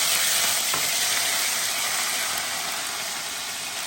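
Ginger and green chili paste sizzles in hot oil already fried with bay leaf, dried chili, cinnamon, clove, cardamom and cumin, a loud, steady close hiss with one brief clink early on.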